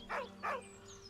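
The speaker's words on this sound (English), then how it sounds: "With a deep, heartbroken whine, the dog bows his head" A dog whines twice in Baldur's Gate 3, two short mournful cries close together, near and clear over a faint steady background hum.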